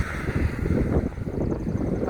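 Wind gusts buffet a microphone outdoors in Burlington, Massachusetts, in changeable weather, a close, loud, continuous rumbling rush with fluctuating strength.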